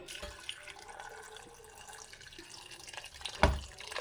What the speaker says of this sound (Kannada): ಹಾಕ್ಕೊಂಡು ಸ್ವಲ್ಪ ನೀರು ಹಾಕಿ ಬೇಯಕ್ಕಿಡ್ತೀನಿ